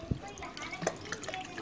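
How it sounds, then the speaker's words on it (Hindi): Taro roots (arvi) being rubbed and washed by hand under running water, with splashing and trickling in short bursts beneath a voice talking throughout. "आपने इनको इसको पानी से पहले धोना है अपने हाथों से रगड़ रगड़ के"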